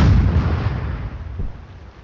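Artillery fire in the Sudden Strike 4 video game, Soviet campaign defending around Lake Balaton: a loud, deep boom that opens the moment and rolls away into a long rumbling decay, with a second softer thud partway through.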